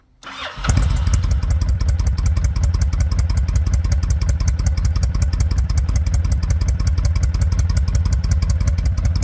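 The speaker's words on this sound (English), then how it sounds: "So that's the bike just idling, obviously." A 2007 Honda VTX motorcycle engine starts and settles into a steady, loud idle with a rapid, even putter, close by and with no talking.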